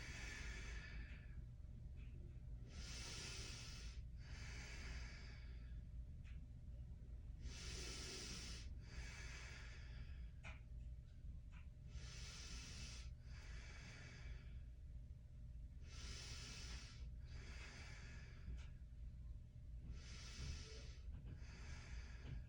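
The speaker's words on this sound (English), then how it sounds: "Long, deep breath out." Slow, deep breathing during a yoga flow, with long airy inhales and exhales repeating in an even rhythm roughly every few seconds, close and soft over a low steady background hum, with no talking.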